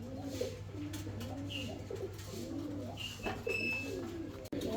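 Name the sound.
fancy pigeons cooing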